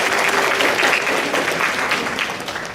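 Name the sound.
audience applause at school banquet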